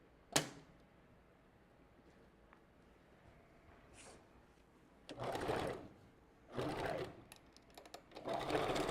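A sewing machine stitches hair wefts onto a custom glueless wig, running in three short bursts after a sharp click and a quiet stretch, close and fairly loud.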